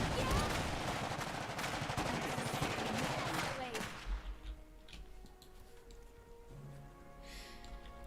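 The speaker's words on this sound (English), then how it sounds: "Okay, machine gunners, take them down." Rapid, dense machine-gun fire rattles in the Iron Harvest strategy game for about four seconds, then cuts out, leaving faint game sounds and tones behind.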